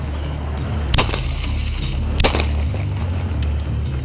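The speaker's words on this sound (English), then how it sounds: "Shots fired! Shots fired! Spooner and Southmore!" Gunfire during a police shootout at a street intersection, two sharp loud cracks about a second apart over a low rumbling background, with no speech.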